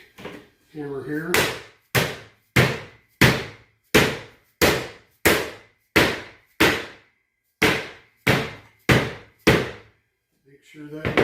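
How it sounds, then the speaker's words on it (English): A small hammer taps a lid down onto a plastic food bucket for vacuum sealing, giving about fifteen sharp, evenly spaced knocks at a steady rhythm, close and loud, after a brief rustle at the start. "Get my little hammer here."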